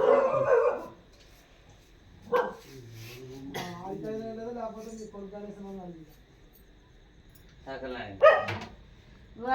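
A dog barks and yelps in short bursts spread across the stretch, the barks alternating with a human voice talking nearby at moderate loudness.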